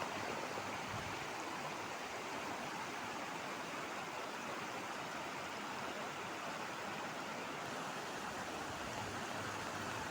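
A monsoon-swollen river in the Konkan rushes in a dense, constant roar of flowing water, loud and close throughout with no voices.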